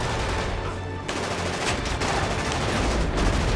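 Dense, continuous automatic gunfire from the video game Killzone 2 roars loud and close in an unbroken wall of shots and explosions.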